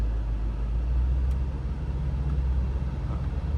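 A BMW M5 Competition F90 sedan creeps through a tight turn in a parking lot, its engine a steady low rumble that stays close and even with no talking.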